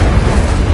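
Short, loud Incendio fire-spell burst from Hogwarts Legacy, a single broad whooshing blast that fills the moment with roaring noise.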